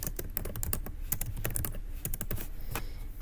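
Rapid clicking keystrokes on a computer keyboard, close and continuous, with uneven bursts of taps and no voices.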